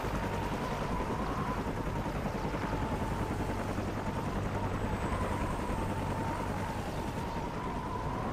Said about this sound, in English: Take it out, that helicopter, he'll buy us some time.